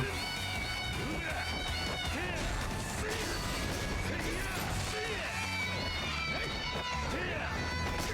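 In the video game Yakuza 0, shoes squeak constantly with each step, a rapid run of high chirping squeals resembling meows, heard over busy game noise and thuds with a person talking throughout.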